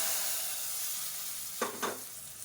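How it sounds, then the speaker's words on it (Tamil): Tempering vadagam with dried red chillies sizzling in hot oil for an Andhra-style mango paruppu kulambu: a steady hiss close up, with two short louder bursts of crackle near the end. "இப்போ இந்த தாளிப்பு வடகத்தை சேர்த்துக்கலாம்."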